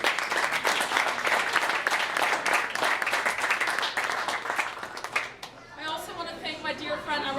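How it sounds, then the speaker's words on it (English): Audience at a school board member's campaign kick-off event giving a sustained round of clapping and cheers, loud and steady for about five seconds before it fades away under background chatter. "So how about a round of applause for this dynamic?"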